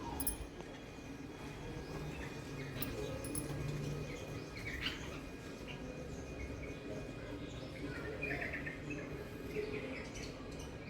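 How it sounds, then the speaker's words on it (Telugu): Many small birds chirp and twitter together at a distance, a steady busy chorus over a low outdoor hum with scattered sharper calls. "ఎన్ని పక్షులు ఉన్నాయి చూడండి."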